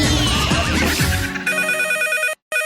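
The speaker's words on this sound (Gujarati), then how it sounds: "ફોન આવ્યો કાકા." A telephone rings with a loud, repeating electronic trill following a burst of noisy clatter at the start, then cuts off abruptly into silence near the end.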